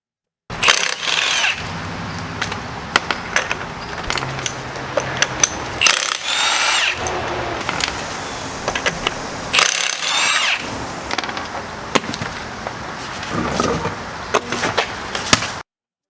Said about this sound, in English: I'm using electric impact.